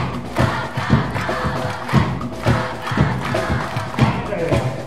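An outdoor crowd at a Takanawadai high school wind band performance during a Takamatsu cherry blossom festival claps in steady rhythmic unison, regular thumping claps with a loud group chant on the beat.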